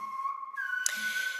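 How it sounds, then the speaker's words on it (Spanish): Silbo Gomero, the ancestral whistled language of La Gomera used to communicate across long distances over rugged terrain: a clear, fairly near whistled phrase of sustained, shifting tones, alone with no talk. "el silbo gomero, que es una comunicación ancestral en el que los antepasados se comunicaban a través del silbo"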